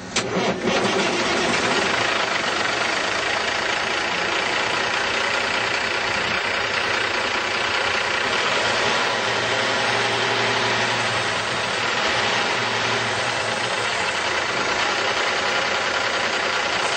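A Volvo VNL780 semi truck with a 450-horsepower Cummins ISX diesel cranks briefly and fires up, then settles into a steady, loud, rumbling idle that carries on without talk.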